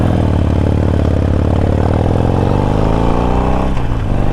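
Loud, close rumble of a Harley-Davidson Iron 1200 motorcycle with new, longer rear shocks, riding over bumps, its V-twin engine droning steadily with wind roar and a slight dip in pitch near the end.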